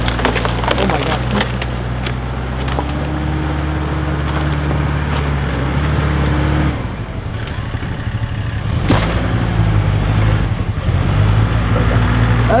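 A farm tractor drives through fallen trees, its engine a steady loud drone while wood cracks and splinters in bursts; people talk faintly in the background.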